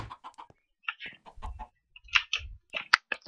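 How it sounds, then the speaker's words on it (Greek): Chickens cluck in the video game Minecraft, short repeated clucks and squawks coming in uneven bursts with gaps of silence, clear and close with no talking. "Κότες παντού."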